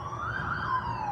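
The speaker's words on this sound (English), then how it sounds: "I hear all these sirens." Police and ambulance sirens wail steadily at a distance on a street, a continuous rising and falling tone over low traffic rumble with no voices.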